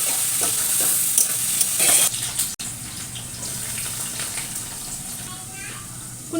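Chicken fries in oil in a pan with a steady, close sizzle and occasional stirring scrapes, while a person talks over the cooking.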